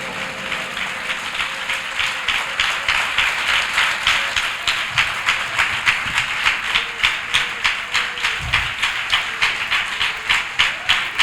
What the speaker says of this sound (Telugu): If you are clapping, clap nicely.